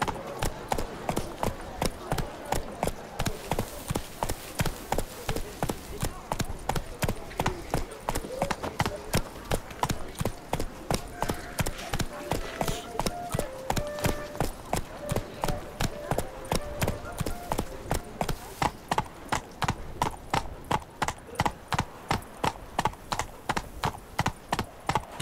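Steady, rhythmic clip-clop of a galloping horse's hooves in The Witcher 3, continuous and close throughout, with occasional soft game music in the background.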